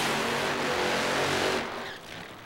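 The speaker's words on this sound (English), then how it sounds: "Burnout for the Kenworth team and Tim Wilkerson." Tim Wilkerson's Kenworth-sponsored funny car does a burnout at a 2000 NHRA drag race, a loud roaring engine with tire noise that cuts off abruptly to a quieter rumble near the end.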